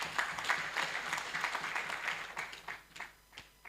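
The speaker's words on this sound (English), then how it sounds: "Let's clap for them." Audience clapping for the organizers at a nutrition awards ceremony, a lively round of applause that thins out toward the end, leaving a few scattered claps.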